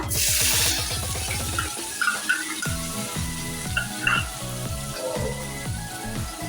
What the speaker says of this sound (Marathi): आपलं तेल पण गरम झालंय आता आपण त्यात घालूया बारीक चिरलेला कांदा